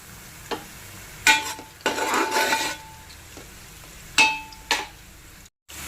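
Onions frying in a pan for a two-kilogram chicken curry, a low sizzle under clanking spoon strokes against the metal pan and a couple of bright clinks, close and moderately loud, no voices.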